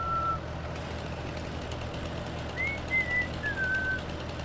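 A person whistles a few thin, high notes, one short tone and then a brief wavering phrase, over the low steady drone of a truck engine in Farming Simulator 19.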